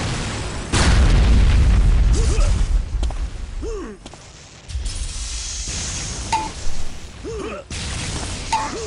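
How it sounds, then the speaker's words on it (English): Shock ball combo blasts from an arena shooter game ring out as heavy booming explosions with whooshes, one loud burst followed by several sharper pops and zaps across the stretch. "almost see the delayed combo there by Lavak, shooting a shock ball, then a primary, and then going back for the combo."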